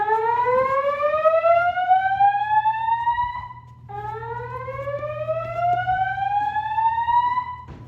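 A Notifier NFS2-3030 fire alarm system sounds a loud tone that sweeps steadily upward, repeating twice over a low constant hum, with no voice over it.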